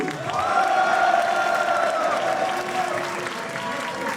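A wrestling crowd at an APC Evolution event claps and cheers for Isaiah Morales and Talia Cruz, with dense sustained applause, whoops and shouts filling the hall loudly throughout and slowly easing toward the end.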